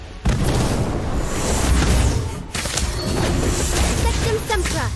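An Incendio fire spell erupts in Hogwarts Legacy combat: a loud, close, roaring blast that keeps booming and crackling for several seconds, dipping briefly before surging again.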